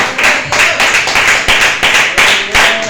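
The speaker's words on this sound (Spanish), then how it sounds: "Den un fuerte aplauso al Señor." A church congregation claps together during a sermon, a loud, close, steady rhythm of roughly three to four sharp claps per second sustained for about three seconds, with no voices on top.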